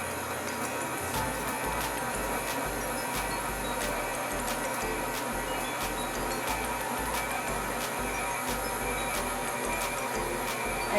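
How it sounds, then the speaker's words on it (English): An electric mixer runs at a lowered speed while dry mixture is added to batter. The motor gives a steady, close, continuous whir with a faint repeated ticking from the beaters, and no one speaks. "Turn your mixer down."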